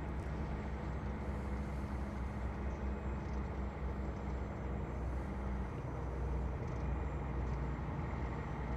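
In American Truck Simulator, a Freightliner FLD hauling cement doubles at about 70 mph drones with a steady, rough engine and road roar that sounds like it has engine trouble, constant and uninterrupted for the whole stretch.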